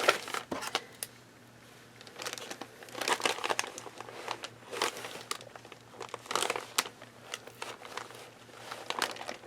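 Paper crinkles and rustles up close as a taped mail package of journal supplies is pried open, in irregular bursts of crackling over a faint steady hum.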